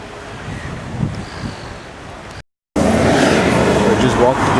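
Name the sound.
strong wind at a beach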